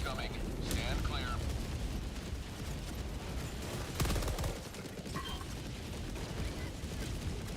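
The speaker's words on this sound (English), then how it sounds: "Orbital barrage incoming. Stand clear." Orbital barrage explosions rumble and crack in Helldivers, a dense continuous wash of blasts with sharper impacts standing out, while voices talk underneath.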